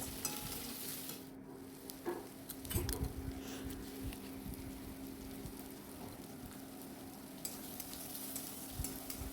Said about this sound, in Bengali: এখানে দেখো পেঁয়াজটা আমি ভেজে আবার ওর মধ্যে একটু টমেটো দিয়ে দিলাম